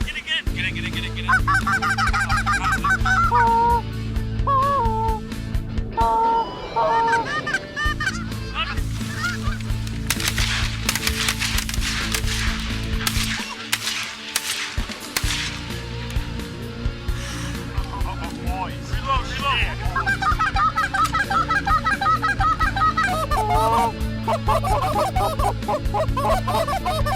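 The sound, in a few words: geese honking during a goose hunt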